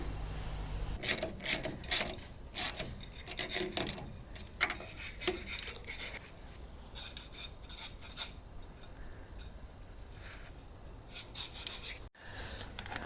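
A ratchet wrench tightens two small bolts fixing rubberized plastic on a trailer, giving quick bursts of close clicking and metallic ticking with short pauses and rubbing handling sounds between strokes.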